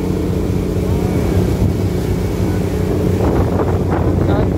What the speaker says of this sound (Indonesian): Anginnya semilir,